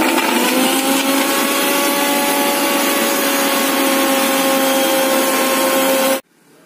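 An electric blender whirs loudly and steadily as it grinds jackfruit seeds with milk for a shake, a constant high motor whine that stops abruptly near the end, leaving near silence.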